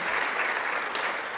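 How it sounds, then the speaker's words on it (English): An audience at a Long Island governor's announcement applauds steadily, a dense, even wash of clapping that fills the whole short stretch at close range. "Let's give him a round of applause."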